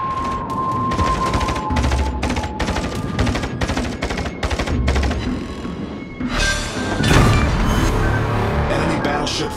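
Naval guns fire in a World of Warships battle: a rapid string of booming salvos, then a heavier crashing barrage near the end, loud and close.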